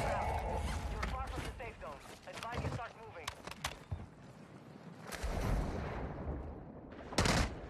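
Sharp pistol shots crack out in a multiplayer shooter game, several quick bursts scattered through the stretch, mixed with game effects and heard beneath ongoing excited player chatter.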